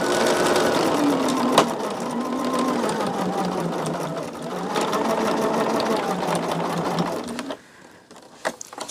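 A sewing machine runs steadily while stitching a quilt block for a flower-patterned quilt-along, its motor humming loud and close for about seven seconds before it stops and a few small clicks follow.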